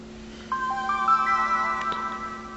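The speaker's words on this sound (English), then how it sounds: "So we're going to turn on the console here. And you'll hear the PSP sound." A Sony PSP console plays its startup sound, a short layered electronic chime with rising tones that stack and hold over a faint steady hum, clear and close.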